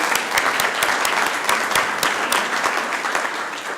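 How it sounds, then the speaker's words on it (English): Students receiving a round of applause at a city council meeting, dense close clapping from a sizeable room that holds steady and then starts to taper. "Let's give them another round of applause, folks."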